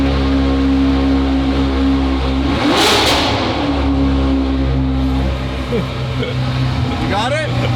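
A Porsche engine pulls and revs under acceleration during a drive, a steady low drone that swells briefly, with occupants talking over the road noise.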